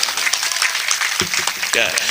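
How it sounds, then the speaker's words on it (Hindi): A crowd at a mushaira and kavi sammelan in Mahuakhera Ganj claps steadily in a dense, crackling wash, with a voice speaking over it near the end. "जोरदार तालियां यार"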